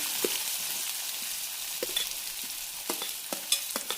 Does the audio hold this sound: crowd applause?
no